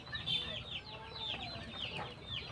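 Several pet chickens cluck in a backyard, with repeated short clucks and squawks close by, fairly faint, and no speech over them.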